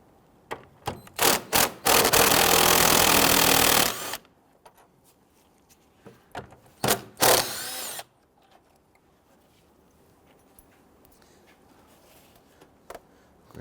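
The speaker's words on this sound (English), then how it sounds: "we want to go ahead and loosen and remove this 10mm bolt, as well as the one on the other side" A power tool whirs in two sustained bursts, each framed by short clicks and rattles, as a 10mm bolt is loosened and removed from a 2011-2017 Nissan Quest 3.5L V6 engine; quiet handling noises follow.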